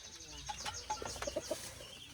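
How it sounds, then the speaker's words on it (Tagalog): Young chickens cluck softly in a few short, faint calls near a home kitchen, with a light flutter and quiet background noise and no talk. "Puro sisiw pa yung mga manok nyo."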